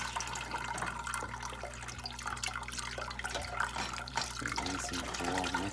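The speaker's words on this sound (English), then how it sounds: "we're gonna rinse this with some cool water" Cool tap water runs steadily while homemade cheese is rinsed in a kitchen sink, a constant faint splashing stream with small clinks and drips, no one talking.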